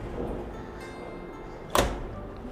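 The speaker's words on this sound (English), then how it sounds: "The drum door can be closed." The drum door of a digital plate imaging machine swings shut with a single brief thunk, standing out against a steady background hum of machinery.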